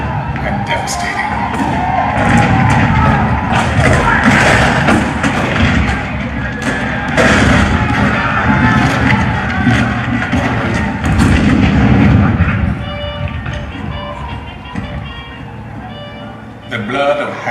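Booming cannon fire in a Civil War show at the Hall of Presidents at Walt Disney World, heavy repeated thuds and rumbles mixed with crowd-like shouting over narration, loud and reverberant before fading.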